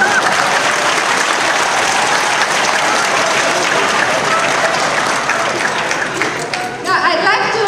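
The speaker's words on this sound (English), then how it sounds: "Clap, please." Dinner audience applauding steadily and loudly, a dense wash of many hands clapping close by for several seconds, with murmured voices and a few cheers mixed in toward the end.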